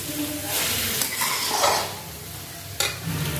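Halwa with khoya stirred and cooked in a pan, a continuous scraping and sizzling texture with a sharper clank near the end, close and moderately loud.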